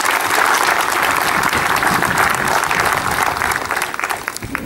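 A crowd at a school graduation ceremony in Zalaegerszeg, Hungary, applauds steadily and loudly throughout, the clapping dense and sustained, easing slightly near the end.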